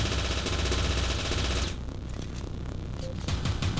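Rapid automatic fire from a laser weapon in the game Teleglitch, a dense, steady stream of shots that runs loud and continuous, then thins into sparser, choppier bursts.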